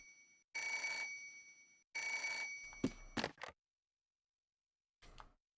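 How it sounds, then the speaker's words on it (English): A telephone in the video game Parasite Eve 2 rings in two loud electronic bursts, followed by a few sharp clicks and a faint later blip. "Oh, it's a convenient phone ringing."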